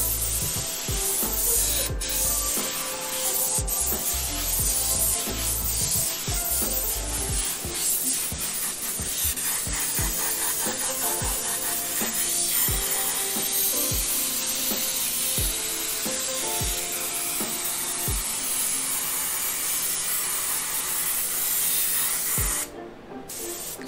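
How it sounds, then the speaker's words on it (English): An airbrush sprays paint for graffiti-style lettering: a steady, close hiss broken by short bursts and pauses as the trigger is worked, with faint rubbing and tool clicks in between and no talk. "The spray is so strongly and cleanly."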